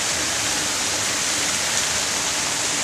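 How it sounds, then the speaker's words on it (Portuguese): Water gushing out from inside a structure in Santiago, Chile, a loud, steady rushing roar that stays constant and close, with no speech over it. "E a água vem lá de dentro."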